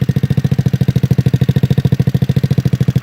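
A 2004 Yerf-Dog GX150 go-kart engine, carrying a slight tap, runs at a steady, loud, fast rhythmic chug close by, with no voices.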